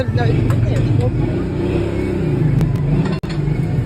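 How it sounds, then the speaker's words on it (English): Road traffic drives past on a street beside Esther and Mordecai's tomb in Hamadan, a steady loud rumble of car engines with people talking over it throughout. "You can hear cars driving."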